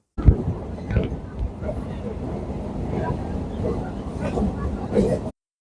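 A Sealdah–Namkhana local passenger train rumbles and clatters steadily for several seconds, with a few louder knocks and jolts over the continuous roar.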